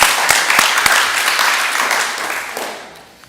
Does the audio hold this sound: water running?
no